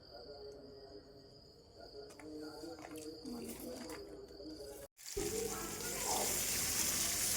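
Chilies and vegetables are washed under a running tap, a steady rush of water that grows louder and closer after a short break, with faint handling sounds and a constant insect-like hum behind.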